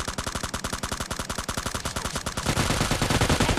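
Rapid automatic gunfire in the mobile shooter PUBG Mobile Lite, with a long string of evenly spaced shots. A denser, louder burst of overlapping fire and impacts follows near the end.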